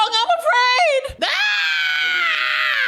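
A man's drawn-out scream, rising in a few strained pitched bursts and then held as one long, loud, close wail that slowly fades.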